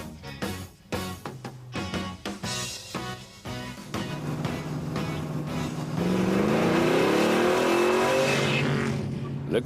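A Chevrolet Camaro Z28 with a 5-litre, 290-horsepower engine revs loudly, with short sharp bursts at first, then a sustained roar that climbs steadily in pitch as it accelerates.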